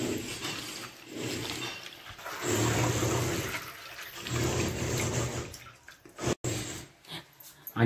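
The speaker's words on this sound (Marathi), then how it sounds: "आईने किती चांगली अशी धुवून घेतलेली आहे भाजी" Spinach leaves being rinsed and washed in water, a steady close splashing and rushing wash that swells and eases in waves, with a few brief knocks near the end and no talking.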